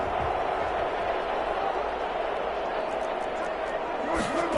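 A football stadium crowd roars after a goal-line stand, a broad, sustained wash of cheering that holds steady throughout.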